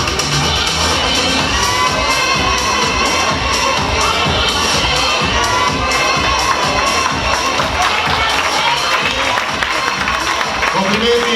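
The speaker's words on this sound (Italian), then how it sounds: "Brava Steffi, come la clac sta urlando" Audience at a plus-size fashion show runway event cheering and shouting loudly and continuously, a dense crowd roar with children's shrieks and scattered clapping, with voices mixed in throughout.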